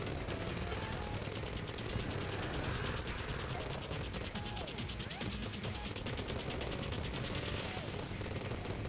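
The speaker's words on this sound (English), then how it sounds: "I think I'm shooting him with chlorified bullets." Continuous rapid gunfire with chlorophyte bullets in the video game Terraria, a dense unbroken stream of shots mixed with game effects throughout.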